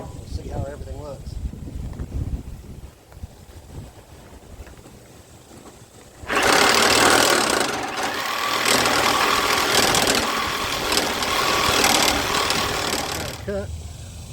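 After a stretch of talk and low background noise, a steel steering shaft adapter on a Speedex tractor is cut with a loud power tool. The dense, roaring grind runs for about seven seconds and stops abruptly.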